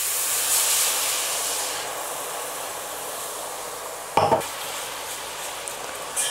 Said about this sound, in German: Schön rühren, damit keine Klümpchen entstehen.